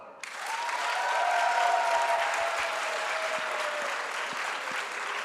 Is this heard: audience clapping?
yes